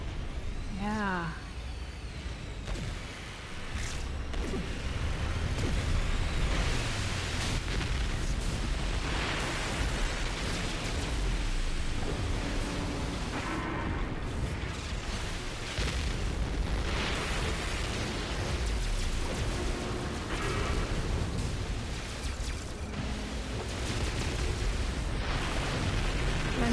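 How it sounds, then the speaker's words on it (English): An incoming enemy missile exploding near a starship in No Man's Sky, a loud roaring blast that rumbles on continuously with engine and combat noise, dense and sustained throughout, under talk. "Enemy missile inbound."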